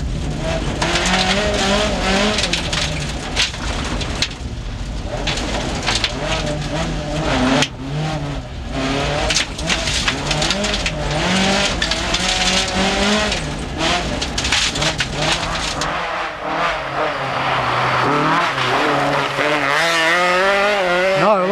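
A rally car drives hard along a narrow forestry road at a 1992 rally stage, its engine revving loud and near through constant gear changes, with tires skidding and squealing on the low-grip surface.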